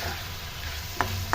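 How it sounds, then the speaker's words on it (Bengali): Mushroom curry masala sautés in a pan with a soft, steady sizzle close by, broken near the end by two brief sharp clicks of a utensil against the pan. "দিয়ে আবার ভালো মতন একবার কষিয়ে দেবো"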